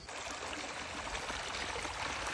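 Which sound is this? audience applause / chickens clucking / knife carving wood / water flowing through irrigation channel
water flowing through irrigation channel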